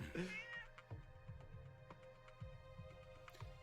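A cat meows a few times at the start, near and clear, followed by soft rhythmic thumping and faint movement under a quiet room hum.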